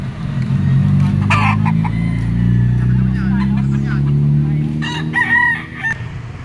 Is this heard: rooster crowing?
yes